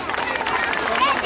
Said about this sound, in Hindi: चलिए विमल सर के लिए बस ताली बजनी चाहिए जोरदार।